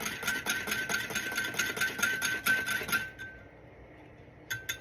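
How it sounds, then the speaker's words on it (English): Whisk rattling quickly against a small container while mixing wet ingredients with oil for blueberry muffins, a rapid metallic clinking rhythm that runs loud and close for about three seconds, then stops, with a couple of faint taps after. "So I'm going to use my whisk in this little container and whisk this all together."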